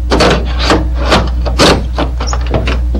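Slim jim tool slid down against the weather stripping of a car door, a loud close scraping rasp in repeated rhythmic strokes, with a steady low hum beneath.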